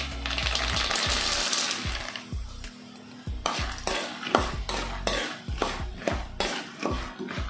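Roasted gram and peanuts fry in coconut oil in a pan for a spicy flattened-rice snack, with a sizzle first, then repeated scraping and clinking stirring strokes, close and rhythmic.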